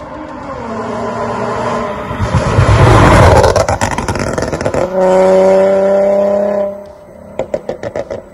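Nissan 370Z engine roaring loudly while driving, revving up through a strong swell, settling into a steady harmonic drone, then easing off with a few short throttle blips at the end.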